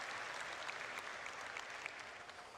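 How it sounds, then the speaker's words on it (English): Audience applause fills a convention hall at CitizenCon 2954, a dense, steady clapping from a large crowd heard at a distance and fairly soft, with no talking over it. "All right, you can clap."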